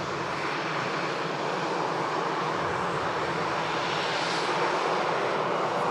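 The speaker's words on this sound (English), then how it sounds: "EasyJet arrives from Paris." EasyJet airliner at Manchester Airport arriving from Paris, a steady broadband jet engine roar that holds loud and even throughout, swelling slightly toward the end as it passes nearby.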